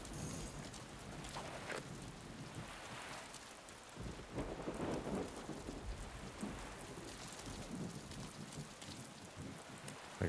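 Rain and a thunderstorm in the Deadpool video game on Xbox 360: a steady wash of falling rain with wind buffeting, and low rumbles of thunder swelling through the middle, no talking.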